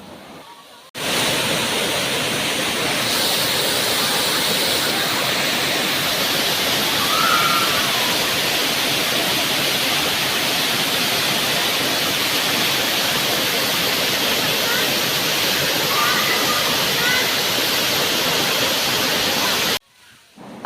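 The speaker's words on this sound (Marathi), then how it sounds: "तिथं इतकं सुंदर पाणी वरतून खाली पडत होतं" Muktai waterfall near Chimur roars in a steady, dense rush of falling water, loud and continuous for about twenty seconds, with faint bird chirps barely rising above it.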